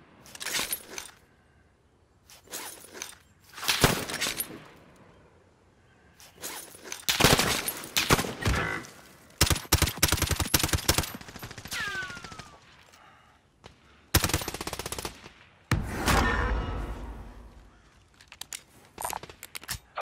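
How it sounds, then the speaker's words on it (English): Gunfire in Call of Duty: Modern Warfare, with scattered loud bursts of automatic fire and single shots, separated by quieter stretches of the battlefield, plus a few in-game radio callouts. "I'm taking fire!"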